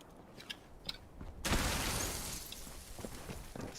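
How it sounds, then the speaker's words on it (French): A flashbang grenade goes off in a video game with a sudden loud, bright blast. A broad hissing ringing wash follows and slowly fades, and a few faint clicks come before it. "je vais tenter de balancer une grenade flash"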